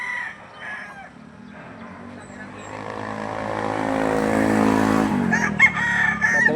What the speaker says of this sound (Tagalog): Dito nagbibinta ng manok.